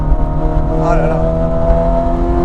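Ferrari 430 Scuderia with its naturally aspirated V8 drones steadily and loudly from inside the car on a public road, a constant engine tone throughout.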